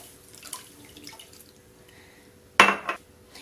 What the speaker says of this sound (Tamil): அது கொஞ்சம் நனையிற அளவுக்கு நான் தண்ணி எடுத்துக்கிறேன்.